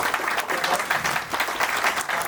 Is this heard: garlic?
no